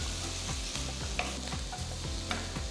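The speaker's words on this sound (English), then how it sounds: "Saute it for another 2 minutes." Green chillies, onion and capsicum sizzle steadily in a pan, with regular scraping strokes of a spatula stirring them through, close and continuous with no talking.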